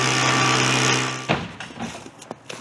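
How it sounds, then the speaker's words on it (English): A lawn mower engine runs steadily at high revs while mulching snow and leaves, then cuts out abruptly, leaving scattered small clatters and faint outdoor noise. "since there's too much snow, the mower won't bag it all up"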